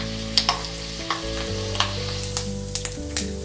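Peanuts fry in hot oil in a pan with a steady crackling sizzle, punctuated by regular scraping clicks as they are stirred.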